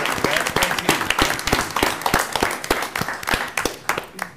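Audience members at a county board of commissioners meeting give a short round of applause for county staff, a mix of scattered individual claps fairly close by, with a voice speaking beneath them.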